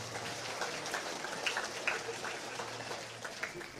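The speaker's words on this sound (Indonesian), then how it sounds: "Tepuk tangan untuk seluruh umat atas semuanya." A church congregation applauding during an anniversary mass, diffuse clapping heard faint and distant, like soft patter, steady throughout with a low hum beneath.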